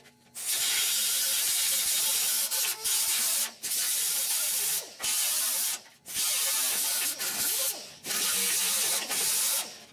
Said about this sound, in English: You've seen me grind welds, for sure.